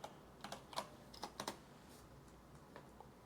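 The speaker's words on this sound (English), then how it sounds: "let me type this in real quick" Quick bursts of typing on a computer keyboard, a handful of close, crisp key clicks clustered in the first second and a half, then a few sparse taps, with no talking.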